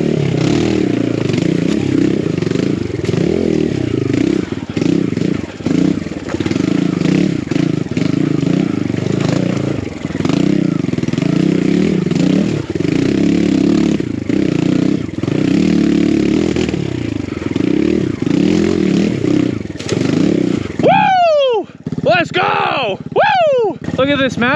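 A BBR KLX170RF dirt bike engine revs and labors almost nonstop on a snowy winter enduro mountain trail, loud and close with clattering and scraping, then cuts out near the end as a brief whistling sweep takes over.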